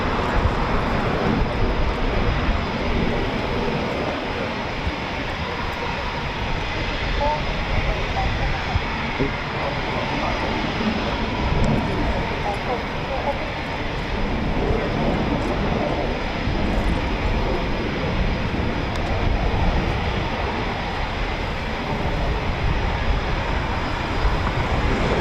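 A Eurofighter Typhoon jet flies circuits at RAF Coningsby, producing a sustained broad engine roar that swells and eases slightly over the whole stretch, with voices underneath.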